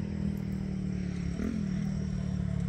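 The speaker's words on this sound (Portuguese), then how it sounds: "Passando uma moto barulhenta" A noisy motorcycle rumbles past at steady volume, its low engine drone continuous throughout with a slight rise in pitch midway as it goes by, no voices over it.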